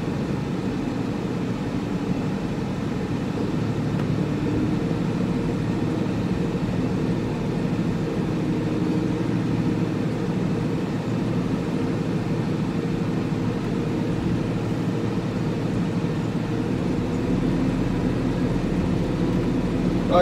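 A John Deere 5075e tractor engine runs at a steady low rumble, continuous and fairly close, with no talk over it.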